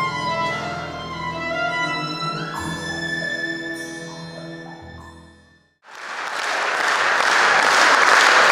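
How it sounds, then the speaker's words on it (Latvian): A concert audience at the Rimbenieks festival in southern Kurzeme breaks into loud, sustained applause right after an orchestral piece by Arturs Maskats ends on a held chord, the clapping swelling into a full ovation. "Skaņdarba izskaņa ar aplausiem un ovācijām tiek sveikti gan mūziķi, gan arī pats komponists Arturs Maskats."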